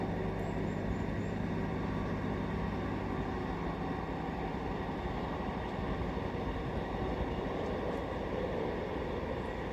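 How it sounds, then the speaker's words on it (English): A very slow train rumbles past nearby on a winter day, a steady low droning roar with faint higher rattles holding throughout with no speech. "Let's just wait until this train goes."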